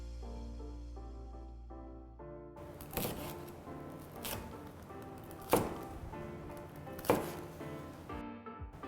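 A knife cuts through tandoori soya chaap on a board after a quiet start, giving a series of close, soft thunks spaced a second or so apart.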